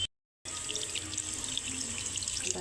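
Water pours steadily into a pot of red-cooked chicken curry, a continuous splashing stream that begins after a short silence and runs without a break.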